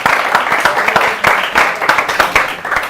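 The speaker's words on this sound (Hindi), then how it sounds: "एक बार जोरदार तालियां हो" Loud applause with sharp individual claps standing out rises from the audience at an Independence Day poetry gathering marking 75 years of India. A voice is heard briefly over the clapping.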